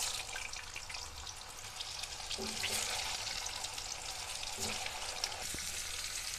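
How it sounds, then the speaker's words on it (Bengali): Taro pieces frying in oil with a soft, continuous crackling sizzle and a few faint clinks, heard steadily throughout. "এর মধ্যে কচুগুলো ভেজে নেব।"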